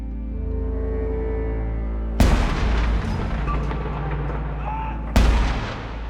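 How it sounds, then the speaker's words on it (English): Two heavy cannon blasts fired from the Tower of London, each a loud, deep boom that rolls out and reverberates across the city, spaced a few seconds apart over a steady low rumble. "Cannons at the tower fire out, reverberating across London, announcing that the Queen of England is dead."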